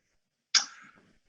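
A single sharp sneeze, loud and close, bursting suddenly out of silence and trailing off quickly.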